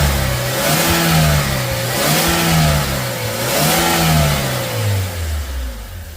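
A 2017 Joylong van engine, running rough at idle, revs up and down in loud, rising and falling surges, close by, with no voices.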